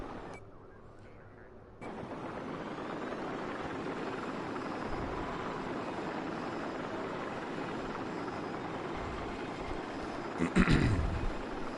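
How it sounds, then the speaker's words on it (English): A helicopter in the video game Battlefield 4 on PS4 gives a loud, steady rotor-and-engine roar that fills nearly the whole stretch, with a brief swell near the end. "there goes the helicopter"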